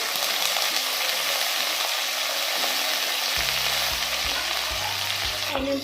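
Chopped onions, curry leaves, green and red chillies sizzle steadily in oil in a pan, a loud continuous hiss with stirring scrapes toward the end and no talking.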